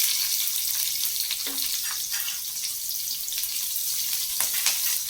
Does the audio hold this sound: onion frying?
yes